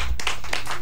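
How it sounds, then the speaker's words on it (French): A few hand claps from an audience after a call to applaud during a French-language comedy show, brief and close, with broadband bursts over a low hum. "Applaudissez!"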